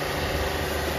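A 200-bar pressure washer pump driven by a 7.5 hp motor hums smoothly and steadily with a faint constant whine, fairly quiet and without any voices.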